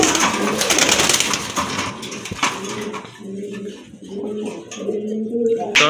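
Domestic pigeons, a pair kept for sale, coo in soft, repeated throaty phrases close by, following a stretch of rustling noise at the start.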